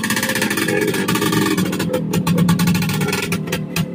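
An old motorcycle engine runs steadily on a road test, a close, continuous buzzing drone with a slight rise in pitch partway through and no talk.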